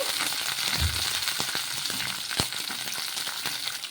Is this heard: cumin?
yes